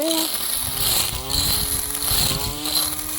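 A small mini trimmer with a metal blade fitted runs steadily nearby, a buzzing engine drone whose pitch wavers as it cuts grass, with a voice talking over it.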